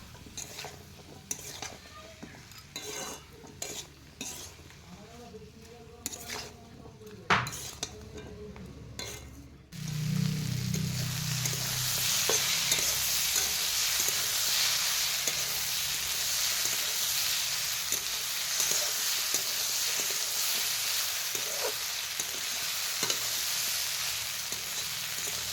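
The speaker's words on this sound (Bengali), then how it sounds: "পেঁয়াজের সঙ্গে সবজিগুলো ভালোভাবে মিশিয়ে 1 থেকে 2 মিনিট ভেজে নিব।" Papaya, potato and onion with turmeric being stir-fried in a pan for a fish head ghonto: clattering utensil knocks and scrapes at first, then a loud, continuous close sizzle with occasional stirring taps.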